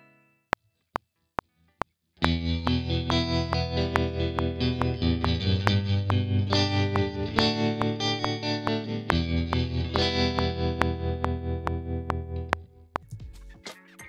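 An electric guitar recorded through amplifier effects in Logic Pro plays a dense, distorted sustained passage with chorus-like shimmer. A few sharp plucks come first, then a loud, steady wall of tone that fades out near the end.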